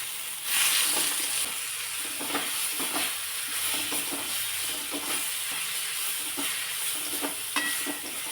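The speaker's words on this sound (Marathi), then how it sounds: "याचा कच्चा स्मेल जाईपर्यंत हे परतून घ्यायचं आहे" Chopped tomato sautéing in a pan for a brinjal curry, with a steady loud sizzle and hiss and repeated rhythmic scrapes of the spatula stirring throughout, close by and without talk.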